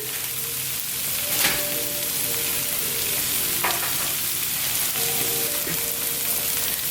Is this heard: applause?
no